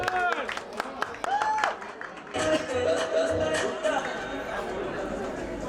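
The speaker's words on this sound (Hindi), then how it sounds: "जोरदार ताली हो जाए फॉर सना" A sangeet audience bursts into loud, dense applause and cheering for a performer named Sana, following a stretch of voices and crowd chatter.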